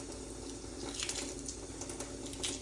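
Tap water runs steadily over a hard-boiled egg as it is peeled, a continuous splashing hiss with a few brief louder spatters and no talking.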